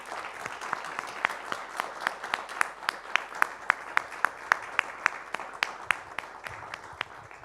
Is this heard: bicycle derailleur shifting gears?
no